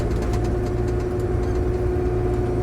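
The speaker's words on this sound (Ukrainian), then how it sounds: "Це зілок з прицепом" A ZIL truck hitched to a trailer idles steadily during a barley harvest, a continuous low engine drone with an even hum that holds at a constant level throughout, with no voices over it.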